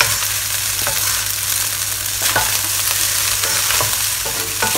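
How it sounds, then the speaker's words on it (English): Thai pineapple fried rice with chicken and shrimp stir-fried in a wok, steady loud sizzling with repeated scraping strokes of the spatula against the pan, no talking. "Mix them up again."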